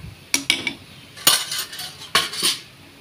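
A spoon scraping and clinking against a pan while mixing spice powders and fried tomatoes for a Goan prawn and cuttlefish dish, with several distinct metallic knocks spread across a fairly quiet background.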